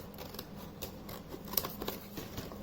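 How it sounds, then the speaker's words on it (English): Small scissors snipping through extra lines on a doll-sized yoga room craft, a quick run of faint, crisp cuts close up. "I'll cut that because we don't need that"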